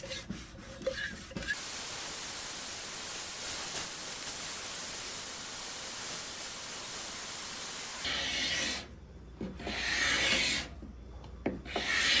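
Steady rasping scrape of a blade drawn across the top of a wooden mid-century dresser, continuous and close for several seconds, then breaking into shorter, irregular scraping strokes separated by brief pauses.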